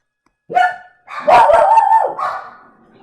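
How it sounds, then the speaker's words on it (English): Shut-in dogs bark and yelp nearby, one sharp bark followed by a longer, strained whining yelp that trails off, loud and clear with no talking over it. "I locked the dogs up, by the way. So now they're probably going to start yelping."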